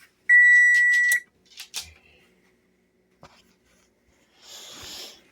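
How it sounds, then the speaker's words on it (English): An oven timer sounds one long electronic beep tone with harmonics, followed by some soft clatter and a faint hiss nearby. "You heard the timer, huh?"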